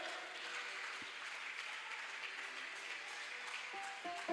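Congregation at a church service applauding steadily, a dense wash of clapping held at an even level throughout, with faint voices rising near the end.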